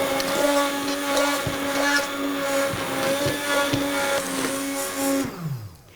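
A stick blender whirs steadily through spiced cauliflower soup, a loud, continuous motor drone with slight pitch wobbles that runs close up for about five seconds, then winds down and cuts off near the end.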